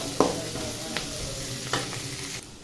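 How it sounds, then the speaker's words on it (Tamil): Onions sautéing in a pan for a spicy Chettinad brinjal curry, a soft continuous sizzle broken by a few quick spatula scrapes and taps, close and quiet with no talking. "வெங்காயத்தை வந்து நல்லா வதக்கிக்கணும்"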